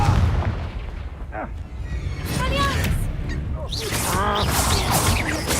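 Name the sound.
Confringo explosion spell in a Harry Potter video game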